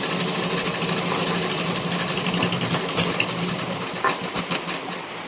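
A sewing machine stitches a bag made from cement sacks, a fast, steady mechanical rattle running throughout at close range, loud and continuous with a slight change in pace near the end.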